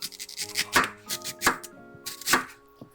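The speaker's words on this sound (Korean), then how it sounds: "듬성듬성 썰어주세요." Knife chopping cabbage, onion and apple into thick 1–1.5 cm pieces on a board: a run of crisp, close cuts in uneven bursts, with no voices.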